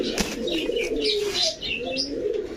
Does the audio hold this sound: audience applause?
no